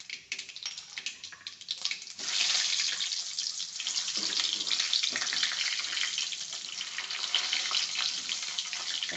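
Stuffed brinjal is added to oil with spluttering cumin and crackles; after a few seconds of light popping, a loud, steady sizzle surges up close and keeps going.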